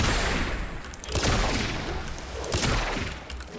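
Artemis bow shots in the Warframe game: a dense barrage of loud, rapid energy-weapon bursts with booming low swells, continuous and close throughout.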